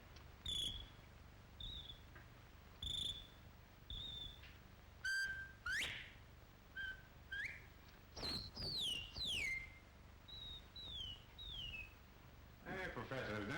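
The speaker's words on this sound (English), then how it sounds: "You take this bottle and you whistle in it" A person whistles into a bottle, producing a series of short, breathy whistled tones and sliding chirps with pauses between them, fairly faint against a low background.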